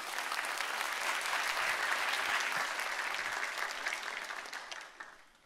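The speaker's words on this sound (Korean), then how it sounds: "우리 목사님 나오실 때 박수로 환영하겠습니다." A church congregation at a Sunday service applauds to welcome the pastor, a dense and steady round of clapping that fades out at the end.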